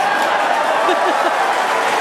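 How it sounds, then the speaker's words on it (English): Crowd at a SpaceX Starship Flight 4 launch viewing cheers and applauds steadily as a dense, loud roar, with a few whoops rising over it and no pause. "The crowd very excited to see that view, despite not being able to see very much."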